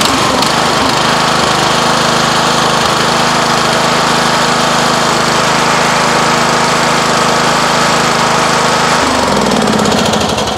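A Craftsman LT1000 lawn tractor engine runs steadily at close range, a loud continuous drone with a deep low-end hum. Near the end the pitch drops slightly as the engine note changes.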